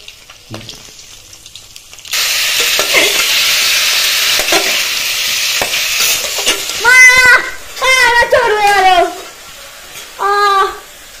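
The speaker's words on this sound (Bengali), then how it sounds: "কুকারে অল্প তেল দিয়েছি, এর মধ্যে এই দিয়ে এই সবজিগুলো ভাজবো" Vegetables fry in a little oil in a pressure cooker in a village kitchen, a steady loud sizzle that starts suddenly and runs throughout, with a voice talking over it in the later part.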